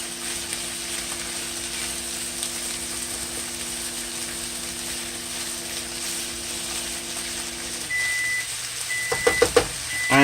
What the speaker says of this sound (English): And you can hear my microwave running. That means I'm warming up the coconut cream.